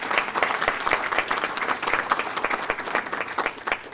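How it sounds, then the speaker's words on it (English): Conference audience applauding student volunteers, a steady crowd of brisk claps sustained at moderate loudness for about four seconds, heard from within the room. "Let's give them a round of applause."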